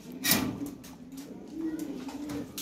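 Lahori pigeon cooing in a series of soft, low, rolling coos with short pauses between them, close by and fairly faint.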